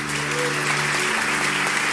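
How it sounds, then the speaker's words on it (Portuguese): Dense applause from a church congregation honouring a preacher's parents during a sermon, steady and close for two seconds, with a sustained musical tone beneath the clapping. "Uma salva de palmas para meus pais."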